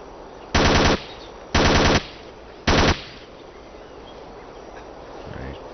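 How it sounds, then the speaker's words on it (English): Three sustained bursts of full-auto machine gun fire in the tactical shooter game Ghost Recon Island Thunder, each loud burst lasting about half a second, evenly spaced with quiet gaps between them. "Alright, I'm gonna go full auto."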